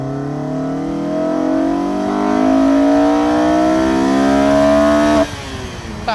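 A Honda S2000 fitted with a K&N intake kit revs hard through a second-gear pull, the engine note climbing steadily and loudly toward redline before cutting off abruptly as the throttle closes, then a lower idle-like drone.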